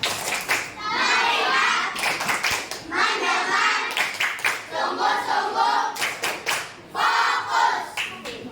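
Children in a classroom perform a rhythmic clapping routine, bursts of clapping in patterned groups mixed with chanting young voices, loud and close with short pauses between phrases.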